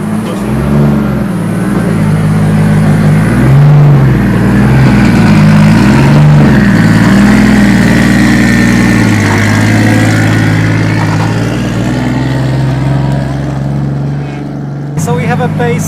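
A car engine with a freshly tuned dual-clutch transmission on its first drive, humming steadily at a loud, close level with gentle rises and falls in pitch as it pulls away and cruises.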